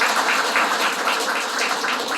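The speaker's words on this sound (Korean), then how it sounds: "큰 박수 부탁드립니다." An indoor audience at a Korean political party branch visit in Mungyeong claps together, producing a dense, loud, steady wash of applause that lasts the whole moment without pause.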